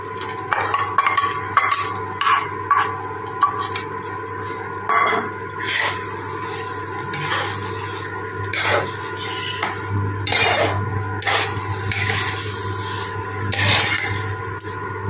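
A metal spoon stirs prawns into banana flower curry in a pan, giving repeated close, sharp scraping clinks against the pan in an uneven rhythm over a steady low background hum.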